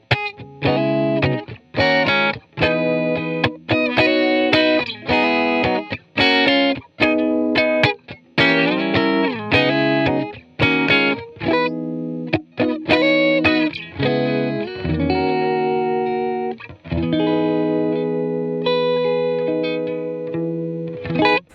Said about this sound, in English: I do use drive and distortion, but not as much as I use clean boosted sound.